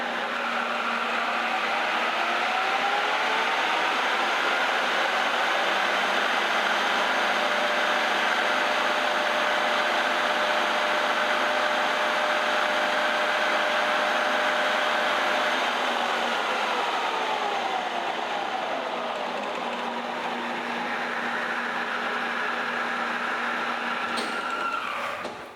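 A Rivett 1020S metal lathe runs at about 6,500 RPM, giving a steady, loud whine with layered tones that slowly rise and fall before winding down briefly at the end, with no talking.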